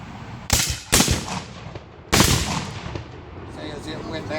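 Muskets firing by file down a line of troops at a drill demonstration: three loud, sharp reports, two close together and one after a pause, each followed by a rolling echo that fades.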